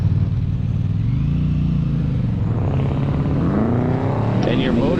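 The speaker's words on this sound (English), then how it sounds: "And your motor, I can tell it's a sport bike motor." Kawasaki Vulcan S motorcycle with a sport-bike-style engine, revving steadily and close by, its drone rising and falling through the clip while a voice talks over it and wind rushes.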